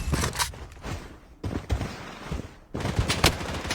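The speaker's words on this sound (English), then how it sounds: "Taking fire!" Rapid bursts of automatic gunfire from the mobile/PC shooter BloodStrike, loud and close, with short pauses between volleys and a brief quieter gap midway.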